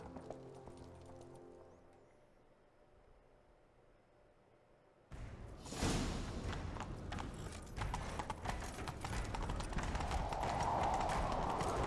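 After a quiet stretch, rapid hoofbeats burst in and keep drumming at a fast gallop in the video game The Witcher 3: Wild Hunt on Xbox, loud and close, over a rushing background of game sound.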